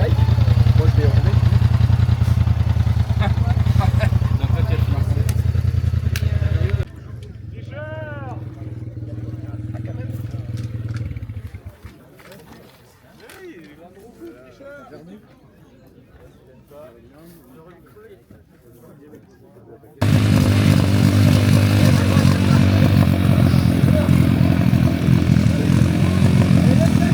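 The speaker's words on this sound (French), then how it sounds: "Et là, c'est la petite course de pit bike." Pit bike motorcycles racing at a motocross weekend event: loud, buzzing small-engine revs rising and falling. They are close at first, then thin out to more distant whines before loud engine noise returns.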